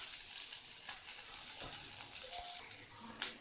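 Onions sautéing in oil in a pan for onion chutney, a soft, fairly faint sizzle with occasional stirring clinks, no talking.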